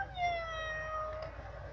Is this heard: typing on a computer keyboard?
no